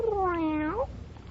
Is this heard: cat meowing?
yes